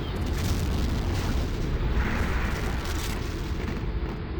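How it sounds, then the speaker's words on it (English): Grenades explode in a multiplayer shooter video game, rumbling booms that blend into a continuous, fairly loud roar with no talk over them. "A few random grenades coming in on him as he tosses a couple back."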